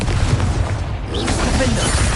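Confringo spell in Hogwarts Legacy bursts into a booming fiery explosion, a dense, loud, continuous crackling roar that fills the whole moment up close.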